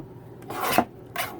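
Scissors cut out paper pieces for a 12x12 scrapbook kit, giving two short, raspy snips close up in a quiet room.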